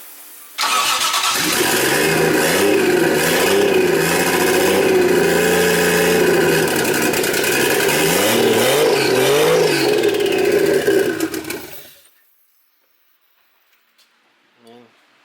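A 1JZ engine swapped into a Nissan 240SX S14, running with unhooked vacuum lines, idles loudly and steadily with wavering revs for about eleven seconds, then cuts off into near silence.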